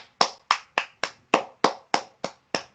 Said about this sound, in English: Let's give a round of applause for this stupidity